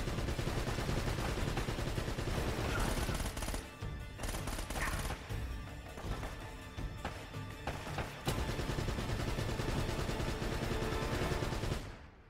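Dense, continuous turret gunfire in Uncharted: Drake's Fortune, loud rapid automatic shots hammering almost without pause, with a couple of short gaps before the barrage resumes and cuts off at the end.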